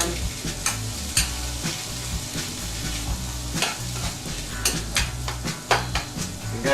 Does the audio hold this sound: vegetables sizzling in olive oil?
yes